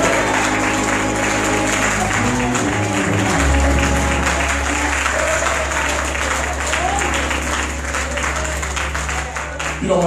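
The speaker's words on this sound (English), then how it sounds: "You ought to clap your hands and give me praise." Church congregation clapping and applauding during Sunday morning worship, a loud, dense, sustained wash of hand claps with a low organ-like drone underneath and voices mixed in.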